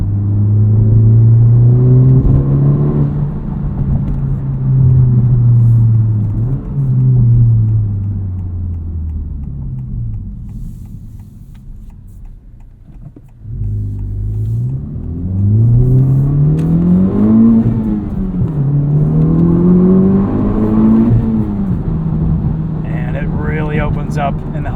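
A 2023 Honda Civic Type R with an MRT street race axle-back muffler delete revs repeatedly, the exhaust rising and falling in deep, loud sweeps that open up at higher revs.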